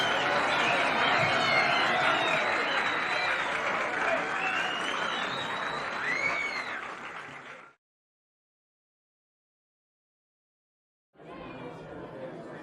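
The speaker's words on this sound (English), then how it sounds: "The passengers erupted into a massive applause." Crowd of train passengers bursting into applause, a dense, loud wash of clapping mixed with cheering voices that cuts off abruptly, then resumes after a few seconds of silence.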